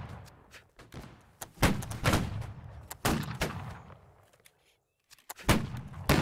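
Musket volleys in the Napoleonic line-battle game Holdfast: Nations At War, sharp cracks and booms going off irregularly at varying distances, some close and loud, others fainter, with brief lulls between shots.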